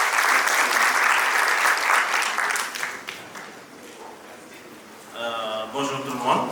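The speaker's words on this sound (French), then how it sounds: "Est-ce qu'on peut l'applaudir? Plus fort, plus fort" Audience applause at the Africa Trading Summit 2025, a dense, steady roar of many hands for about three seconds that then thins and fades, with a voice speaking near the end.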